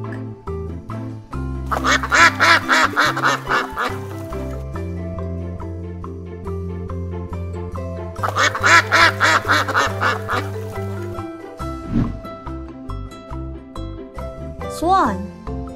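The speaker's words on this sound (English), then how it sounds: "Duck." A duck quacks in two loud, rapid bursts of repeated quacks, close by, with quieter gaps between them and a voice speaking briefly near the end.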